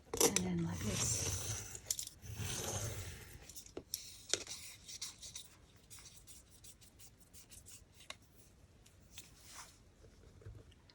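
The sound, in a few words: cutting paper for beads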